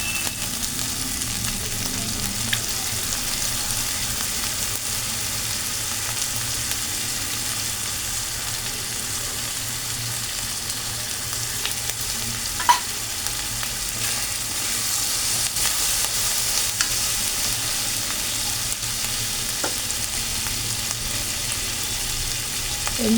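Spice mix frying in hot oil in a pan, a steady, even sizzle sustained throughout with occasional light scrapes and taps of a spoon stirring, close and continuous.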